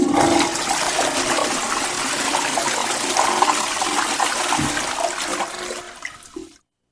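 A Dutch dual-flush toilet flushes with a loud, steady rush of water lasting several seconds, then gurgles and cuts off abruptly.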